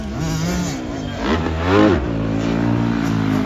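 A 2021 Yamaha YZF dirt bike engine revs loud and close, climbing in pitch in a sharp blip, then settling back to a steady high drone.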